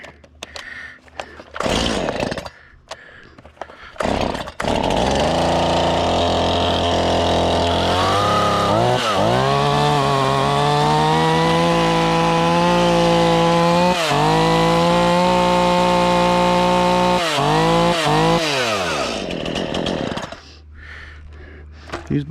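Stihl MS170 and MS171 chainsaws run and warm up close by, a loud continuous two-stroke buzz whose pitch rises and dips as the throttle changes, starting after a few brief handling noises and cutting off near the end.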